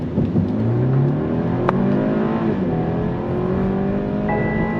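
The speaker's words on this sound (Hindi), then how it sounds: "So it's time to check 0 to 100 और कार बहुत अच्छी रियर व्हील ड्राइव है." BMW 330Li petrol rear-wheel-drive saloon from 2021 launching from 0 to 100, heard from inside as the engine revs climb steadily through a gear change, loud and continuous with no talking.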